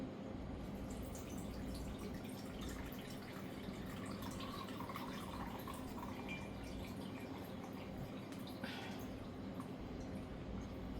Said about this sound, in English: let's see if I can pour this in a little bowl here